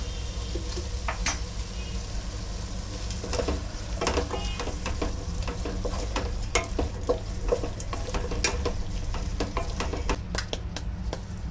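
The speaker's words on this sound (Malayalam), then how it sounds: "പക്ഷെ ഞാനിവിടെ തൈരാണ് ചേർക്കുന്നത്." Vegetables sizzle steadily in a pan for pulao while curd is added and stirred in, with a spoon scraping and clicking against the pan in irregular strokes over the constant frying hiss.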